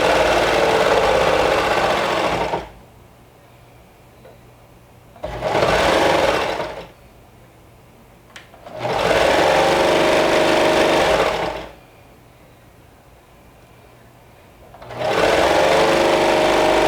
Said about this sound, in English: Now that we have sewn the side seams on the sergers